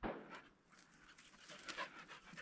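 A hunting dog pants steadily and close during a thrush hunt on a morning walk, with rapid, breathy huffs running continuously over quiet outdoor background.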